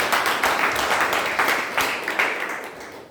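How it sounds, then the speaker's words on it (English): Steady applause from a Toastmasters club meeting audience, a dense patter of many hands clapping at even loudness that tapers slightly toward the end. "A big round of applause for the Toastmasters."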